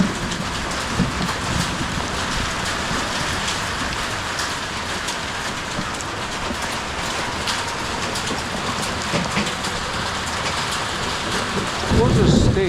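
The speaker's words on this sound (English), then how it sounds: "some reasonably sized hail" Heavy rain and hail pound a farm during a summer storm with thunder, a dense continuous roar of drops hitting surfaces that swells louder near the end, with no clear voices.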